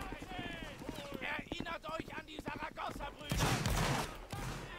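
Musket volley fire in a Napoleonic-era multiplayer battle game, with ragged bursts of gunshots cracking at mid distance and a louder rolling volley near the end, under players talking over voice chat.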